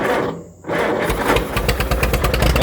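A 1957 Allis Chalmers D14 tractor cranks after a brief lull and catches, its engine settling into a loud, close, rapid chugging run.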